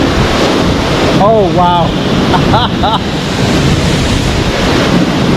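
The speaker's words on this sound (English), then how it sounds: "I'm now in the middle of the river." Rushing river water roars steadily and loudly around someone standing mid-stream on the Elidir Trail near the Sgwd Einion Gam waterfall. Wind buffets the microphone, and a voice briefly exclaims partway through.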